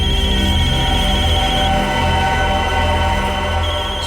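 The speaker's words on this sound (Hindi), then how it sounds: "इसमें तो मोबाइल के रिंगटोन जैसा कुछ बजा है" A mechanism rigged to a hidden wire rings out with a steady electronic tone like a mobile phone ringtone, loud and continuous over a low hum, with no talk.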